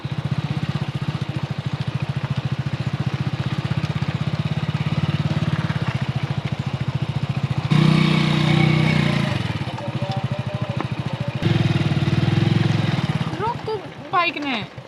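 A motorcycle rides along in a rural Haryanvi setting, its engine giving a steady, throbbing drone with a brief change partway through, while voices talk over it.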